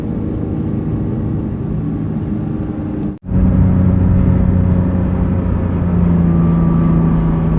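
Engine of a 2024 Porsche GT3 pulling hard through a curve, a loud steady drone that drops out briefly at a gear shift and then returns stronger and deeper as the car accelerates.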